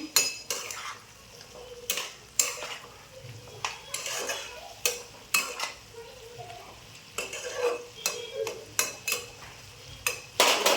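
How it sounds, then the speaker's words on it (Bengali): A spoon stirs small fish and pointed gourd chorchori in a pot, giving repeated sharp scrapes and clanks against the metal in an irregular rhythm, close and fairly loud over a faint sizzle. "একবার করে খুলে নেড়ে দেবেন।"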